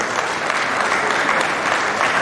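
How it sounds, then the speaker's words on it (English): Sustained audience applause at a memorial lecture, dense and steady throughout, a full room clapping together for an introduced ambassador. "Please let's give a round of applause."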